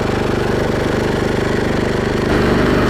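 A Cub Cadet snow blower's engine runs steadily and loudly up close, with a throbbing mechanical drone that shifts slightly in pitch near the end.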